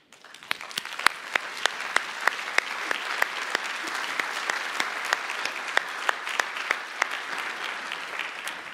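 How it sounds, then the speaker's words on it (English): An audience in a conference hall at a Warsaw forum applauds, a steady wash of clapping with a few sharp, distinct claps standing out, moderately distant and sustained throughout. "I hope you appreciate that round of applause"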